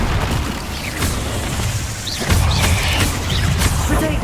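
Fire spell blasts in the Hogwarts Legacy video game boom and crackle in a loud continuous combat din, with several sharp bursts and a heavier rumbling surge midway, plus faint metallic clinks.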